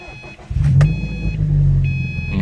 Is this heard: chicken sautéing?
no